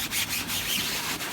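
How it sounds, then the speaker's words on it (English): A pump RDF screen being scrubbed clean, giving a close, continuous rough rubbing sound with quick back-and-forth strokes. "Just scrub it."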